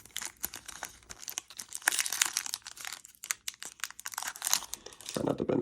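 A Speed Duel card booster pack is torn open and the cards pulled out, giving close, crisp crinkling and tearing of foil wrapper in quick irregular bursts.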